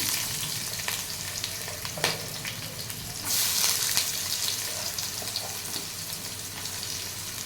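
Sliced onions sizzle steadily in hot oil for chicken biryani, a continuous close frying hiss with soft stirring clatter and a brief louder burst of sizzle partway through.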